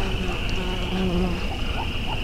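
Honey bees buzz steadily around backyard homestead hives on a cool, cloudy day, a continuous close drone with individual insects passing by and no talking.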